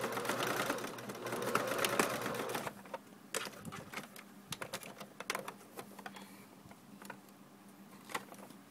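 A sewing machine runs in a steady mechanical whir while stitching down one side of a sweater cuff, then stops, leaving quieter scattered clicks and taps of handling.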